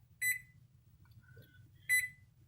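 Kitchen oven timer beeps as it is set, two short bright electronic chirp bursts roughly 1.7 seconds apart with a faint brief tone between them, over a low steady kitchen hum.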